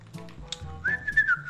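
A person whistles a short sliding note, rising then holding and gently falling, close and clear after a few soft clicks and thumps, lasting under a second with no speech.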